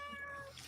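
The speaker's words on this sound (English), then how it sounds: "There's a cat who wants attention" A cat gives a single short, close meow, clear and bright against a quiet indoor background, asking for attention.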